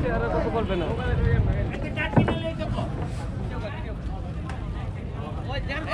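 A steady low engine drone from a motor trawler boat, with water and wind noise, heard from on board, with people talking over it.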